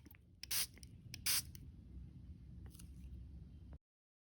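Two sharp hissing bursts of a spray bottle misting water onto coffee filters, each about a quarter second long, close and loud over a low steady background hum.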